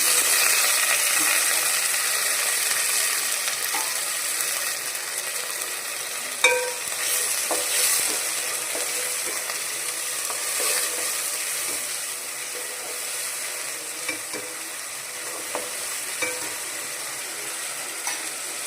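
Onions with mint and coriander fry in a pan for chicken biryani, a steady soft sizzle broken by occasional clinks and scrapes of stirring.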